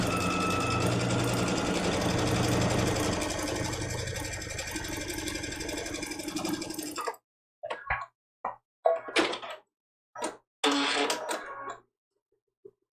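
A sewing machine stitches through a quilt block layered with batting and extra backing fabric at a 2.0 stitch length, running steadily for about seven seconds before breaking into short, clipped bursts separated by silence.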